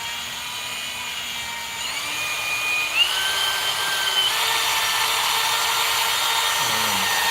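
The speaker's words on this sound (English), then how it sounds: "I like to use the power tools, right? I got the whisk attachment up in there." An electric stand mixer with a whisk attachment whirs steadily with a high-pitched whine that rises in speed partway through, running continuously without talk.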